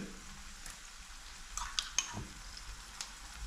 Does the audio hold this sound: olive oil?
yes